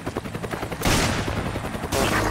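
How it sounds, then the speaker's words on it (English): Loud, sustained automatic gunfire from a Resident Evil 5 match: rapid close bursts run throughout, with a heavier, denser blast of shots cutting in partway through and again near the end. "gunfire"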